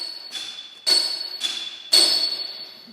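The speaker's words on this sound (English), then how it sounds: "demonstrate to you the anvil we've got" Two hammers strike a large steel anvil in turn, giving four bright, ringing clangs with a sustained high metallic tone that hangs between blows, alternating lighter and heavier hits close by.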